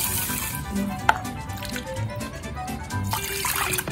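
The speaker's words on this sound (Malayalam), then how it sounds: "നമുക്ക് വെള്ളം ഒഴിച്ച് നോക്കാം" Water trickles and pours steadily into a container of split green gram, with a brief clink of metal partway through and a soft continuous splash.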